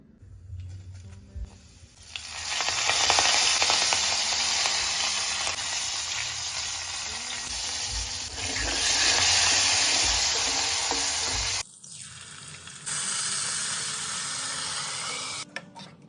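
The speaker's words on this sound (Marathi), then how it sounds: "आता आपण करणार आहोत फोडणी" Loud sizzling of spices hitting hot oil, a sharp hiss that swells, briefly cuts out, then resumes crackling steadily.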